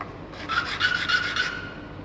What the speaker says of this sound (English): The good thing about the acrylic is you can actually polish the edge of it